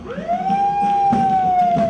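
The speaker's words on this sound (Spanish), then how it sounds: "Las sirenas de las máquinas extintoras anunciaban la materialización de un sueño." Fire engine sirens wail at a fire station inauguration ceremony, a loud, clear tone rising and then holding steady, with a faint crowd murmur beneath.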